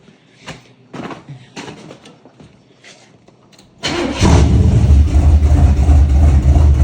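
A 468 engine cranks with several uneven turning-over bursts, then fires up abruptly into a loud, deep, rumbling idle that continues steadily up close.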